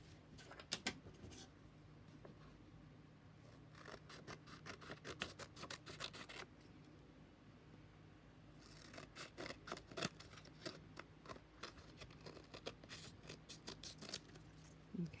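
Scissors trim card for an altered book journal in quiet, faint, close snips, delivered in short bursts of rapid cuts with pauses between them, alongside light paper rustling.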